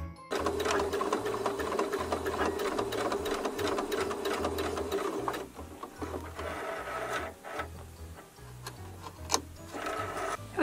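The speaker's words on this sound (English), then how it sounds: "now let's go ahead and sew the other side." A sewing machine runs the side seam of a skirt made from a sweatshirt, its rapid mechanical needle chatter pulsing in close, steady runs with short pauses and light clicks between them.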